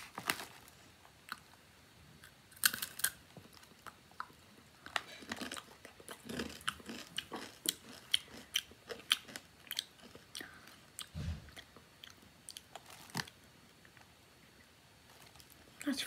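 Spicy coated corn chips being eaten close to the mouth, with repeated crisp bites and crunchy chewing at an irregular pace and some faint background noise.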